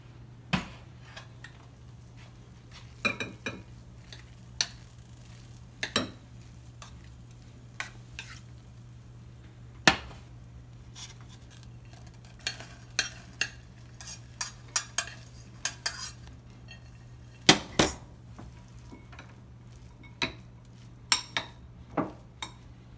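Ingredients are mixed together on a plate with a utensil, producing a long series of irregular clinks and scraping taps against the plate over a faint background hum.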